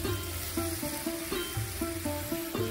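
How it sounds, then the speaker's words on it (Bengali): Ghee sizzling in a pan with curry leaves for a pumpkin dish, a steady close frying hiss with a recurring clinking of a utensil against the pan, no one speaking. "এবার আমি এতে দেবো সামান্য ঘি।"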